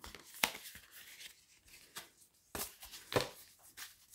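A tarot deck is cut by hand, with soft, close swishes and several crisp taps of cards spread unevenly over a few seconds, faint and alone.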